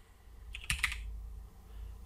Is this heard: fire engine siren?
no